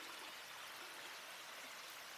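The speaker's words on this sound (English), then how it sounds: "we found a little waterfall" A small waterfall and stream flowing outdoors on a walk in the snowy Georgia mountains, a faint, steady wash of rushing water with no pauses and no voices.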